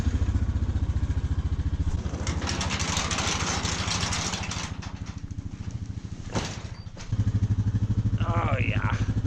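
An ATV engine that is low on gas starts up and idles with a loud, close, throbbing putter. The revs dip and surge unevenly, then settle back into a strong idle.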